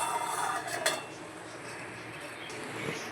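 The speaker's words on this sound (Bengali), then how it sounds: "তো আমি এটাকে ঢাকা দিয়ে দেবো।" A lid is set onto a cooking pot of boiling fish, giving a brief metallic clink early on, followed by a low steady simmering hiss in a kitchen.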